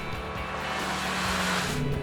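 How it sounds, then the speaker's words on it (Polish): A car accelerates to 70 km/h on a driving school course, giving a steady, loud roar of engine and road noise that builds slightly without talk. "Samochód rozpędził do 70 na godzinę."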